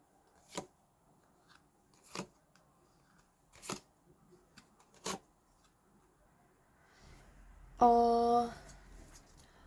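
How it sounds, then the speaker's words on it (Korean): Tarot cards are laid out on a table with several separate sharp slaps and slides spaced a second or so apart, followed by a brief tonal swish near the end. "이번에는 노랑곰님 카드 펼쳐볼게요"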